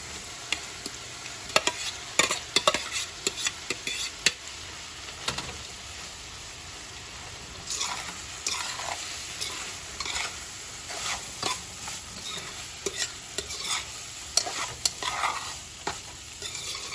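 A rice mixture is stirred in a sizzling pan for yellow rice, with repeated scraping and clinking strokes of a spoon over a steady frying hiss, close and clear, no talking.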